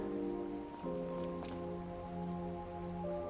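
Light drizzle patters softly in a Trails through Daybreak scene, a faint steady rain texture beneath sustained tonal music with a few brief taps, no voices.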